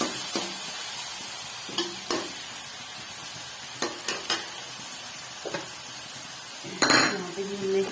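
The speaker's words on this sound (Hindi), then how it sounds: "थोड़ा सा भूनेंगे।" Onions with ginger garlic paste frying in a pan for potato peas curry, a soft steady sizzle with a spoon scraping and clinking against the pan in irregular bursts.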